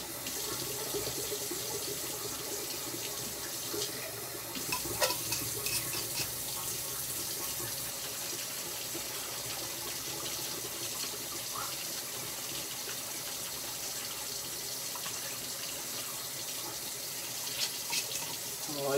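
Water runs steadily from a tap into a sink, a constant rushing splash that continues without a break for the whole stretch.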